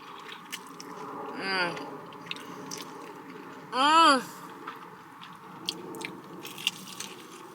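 Close, crisp crunches of food being bitten and chewed, scattered sharp clicks in a quiet room, with a couple of brief vocal sounds between them.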